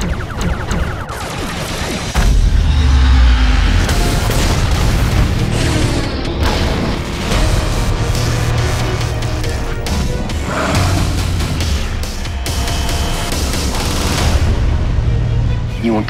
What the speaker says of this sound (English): prepare torpedoes, fire on my mark.